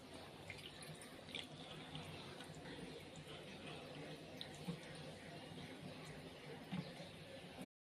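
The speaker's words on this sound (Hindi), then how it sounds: "अब उसी प्याले में पानी डाल के थोड़ा सा पानी डाल रही हूँ।" Water is poured into a bowl of fish and prawns in a home kitchen while a Konkani fish curry is prepared, making a faint, steady trickling wash that runs evenly until it cuts off.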